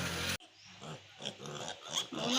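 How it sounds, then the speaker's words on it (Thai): Young piglets about a week off their mother's milk and suffering from diarrhoea grunt and snuffle close by in a quick, uneven string of short grunts after a brief loud noise at the start. "หมูน้อยประมาณนี้เนาะค่ะ เพิ่งออกเพิ่งออกนมแม่มาได้ประมาณอาทิตย์หนึ่ง"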